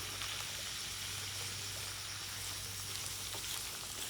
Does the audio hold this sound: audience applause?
no